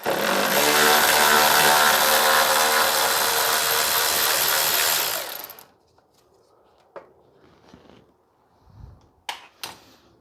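A power tool spins out a 10 mm bolt from a plastic cover on a 2015 Toyota Sienna 3.5, a loud, close, steady whirring burst lasting about five seconds, then quiet handling clicks and light rustling.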